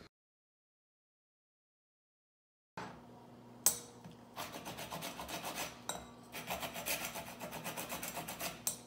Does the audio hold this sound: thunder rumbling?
no